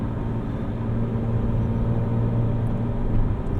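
A 2006 Porsche Cayman S with a full IPE exhaust drones with a loud, steady engine note, heard from inside the cabin and accompanied by road rumble.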